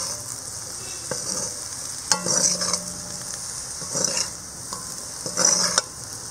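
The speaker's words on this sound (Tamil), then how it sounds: "ரெண்டு கொத்து கருவேப்பிலை, இதை சேர்த்து நல்லாவே ஒன்று மிக்ஸ் பண்ணி எடுத்துடலாம்" Potato fry with two sprigs of curry leaves is stirred in a pan, with a steady sizzle under several bursts of spatula scraping and clatter against the metal.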